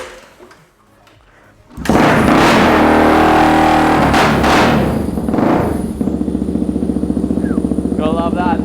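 A Yamaha TTR250 scrambler built for the beach is kick-started, a quiet clunk of kicking giving way to the engine catching and settling into a loud, steady idle that runs on unbroken, with a whoop of excitement near the end.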